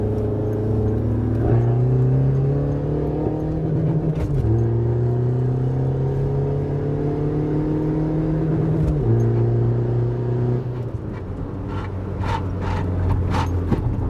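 A lowered Opel Corsa's engine revs up repeatedly in a tunnel, its pitch climbing in three long rising sweeps with a reverberant rumble; no talking.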